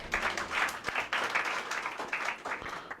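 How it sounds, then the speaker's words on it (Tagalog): Church congregation applauding, a steady wash of many hands clapping at moderate distance, with no talk over it. "Palakpak po sa Panginoon."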